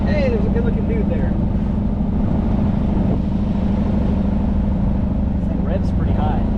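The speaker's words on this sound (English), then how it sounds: "This thing revs pretty high." A 1955 Ford Thunderbird engine drones steadily at a high, even pitch during a test drive, with a person talking over it.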